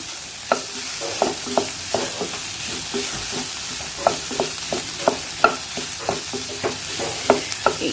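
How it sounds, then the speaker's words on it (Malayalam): Ginger, garlic and green chillies sautéing in a pan for a fish pollichathu masala produce a bright, continuous sizzle punctuated by regular, rhythmic spatula strokes, close up and without voices. "ഇഞ്ചിയും വെളുത്തുള്ളിയും ചെറുതായിട്ടൊന്ന് വഴണ്ടി വന്നതിന് ശേഷം"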